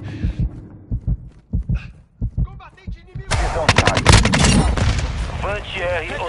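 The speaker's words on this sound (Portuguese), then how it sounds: "Merda, tô tomando tiro!" Gunfire in the Call of Duty MW2 multiplayer video game: a rapid burst of gunshots, then dense, loud automatic fire with sharp cracks and booms, a voice audible throughout.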